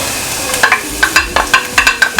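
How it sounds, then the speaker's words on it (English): Chopped onions and garlic hit a hot pan for garlic macaroni and cheese, giving a steady sizzle and hiss with a run of quick, regular scraping clicks from stirring, fairly close. "take our onions and garlic, and we're going to put them in here just like this"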